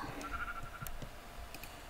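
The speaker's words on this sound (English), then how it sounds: "Sheep." Sheep bleating in the Minecraft survival video game, a short wavering bleat heard quietly at a moderate distance, standing alone with no talking over it.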